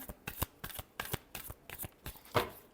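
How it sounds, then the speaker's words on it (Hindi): Tarot cards are shuffled by hand in a quick series of crisp riffling snaps and taps, quiet and close, with no talking. "Last shuffle."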